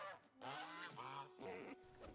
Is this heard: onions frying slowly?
no